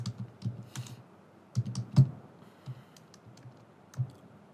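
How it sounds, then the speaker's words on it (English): Typing a test message on a computer keyboard: a quiet, close run of uneven key clicks and taps with small pauses and a few louder presses, heard alone without speech. "here let me type a test message"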